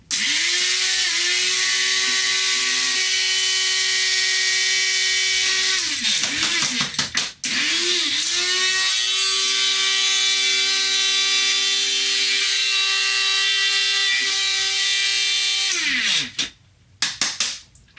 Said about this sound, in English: Let's grind it up.